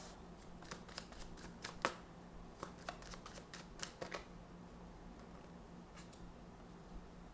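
Tarot cards shuffled by hand at close range, a quiet run of soft riffles and sharp flicks in irregular bursts with a few pauses, over faint background hum.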